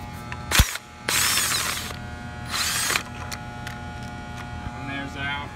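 A hand ratchet with two extensions works loose a 9/16 bolt beneath the drive motor of a Crown PE pallet jack, giving two bursts of dense clicking over a steady mains-like hum in a workshop.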